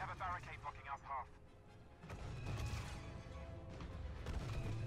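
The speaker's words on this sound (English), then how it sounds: "Someone shot a bazooka at us" A bazooka shot explodes amid chaotic Star Wars Battlefront 2 combat, with booming blasts and gunfire washing into dense, continuous noise. A voice talks briefly over the din at the start.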